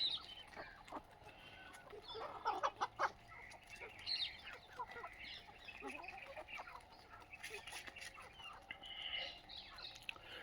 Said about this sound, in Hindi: ये तो देसी मुर्गे होते हैं